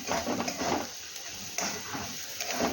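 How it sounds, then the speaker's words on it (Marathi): Peanut, garlic and chilli powder chutney frying in oil in a home kitchen, a steady soft sizzle and crackle with small bursts of bubbling throughout. "हे बघा इथे आपली ही चटणी या तेलामध्ये छान अशी फ्राय झालेली आहे"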